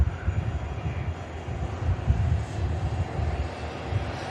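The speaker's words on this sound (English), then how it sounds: "EasyJet on the roll." An EasyJet airliner begins its takeoff roll at Manchester Airport, a steady low engine roar that swells and rumbles throughout.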